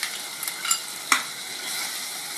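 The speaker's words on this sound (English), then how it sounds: "It is getting cooked in its own juices and curd, and now we are adding tomatoes." Tomatoes are added to mutton cooking in its own juices and curd for a dry Mughlai gosht, giving a steady bright sizzle with a few scraping stirs and one sharp clink of a utensil against the pan, close up and without talk.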